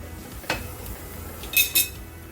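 Puran poli, a sweet flatbread cooked with a little ghee, flipped on a pan: a light metallic clink, then a pair of sharper clatters of utensil against the pan over a soft steady background.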